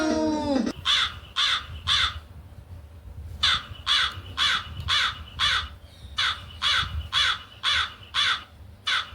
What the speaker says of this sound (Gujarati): કાળી મારી ચાંચ છે, કાળી મારી પાંખ છે. બોલો જ હું કોણ છું? કાગડો.